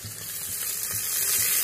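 Green chilies and curry leaves crackle in hot oil, a bright, close sizzle that swells briefly and keeps spitting with small pops.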